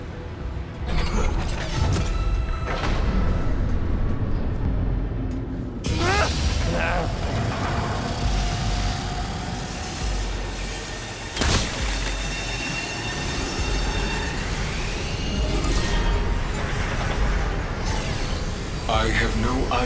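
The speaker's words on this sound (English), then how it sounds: "Step aboard the train." Train in the video game Remnant 2 pulling into a station with loud mechanical creaking, rumbling and squealing wheels, then a sharp clank partway through, as doors slide, with a voice speaking over part of it.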